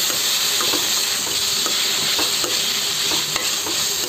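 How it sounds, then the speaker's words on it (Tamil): Onions and tomatoes sauté in a pan for a North Indian mixed vegetable sabzi, giving a steady loud sizzle with repeated soft scraping stirs throughout. "இப்போ இதையும் நல்லா மேஷ் ஆகிற வரைய வதக்கிப்போங்க."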